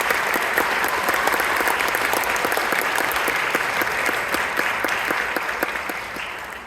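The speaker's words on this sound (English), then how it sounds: "So a round of applause for the band parents." An audience at a school band's winter concert claps in a dense, continuous wave of applause that stays strong, then slowly thins out toward the end.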